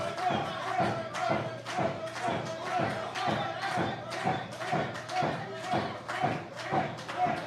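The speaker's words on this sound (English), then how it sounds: "Crowd certainly making some noise here in the USA Sports Arena this evening." Wrestling arena crowd at the USA Sports Arena making noise, with rhythmic thumping stomps or claps repeating steadily about every half second under a continuous roar.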